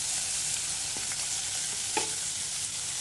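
Onions fry in a hot pan with a steady, loud sizzle, while a spoon stirs them, giving a few soft scraping knocks over the constant crackle, with no voices.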